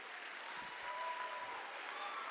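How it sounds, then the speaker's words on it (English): Applause from the audience at a school fall choir concert, faint and distant, a steady wash of clapping heard from afar with a few low thumps. "Yes, you can give him a round of applause."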